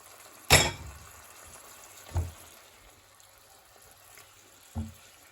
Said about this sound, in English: So I think I'm going to add the penne pasta now.